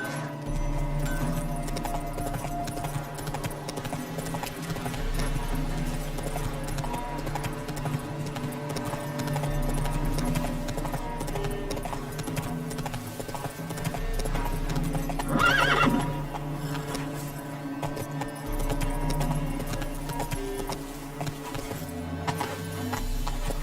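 Roach, the horse in The Witcher 3: Wild Hunt, gallops with fast, steady hoofbeats over game music and gives a loud neigh midway.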